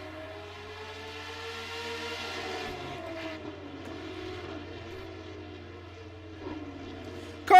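Race car engines at Laguna Seca launch off the line in a long, steady drone with rising and falling tones, moderately loud and somewhat distant, with a sharp burst at the very end.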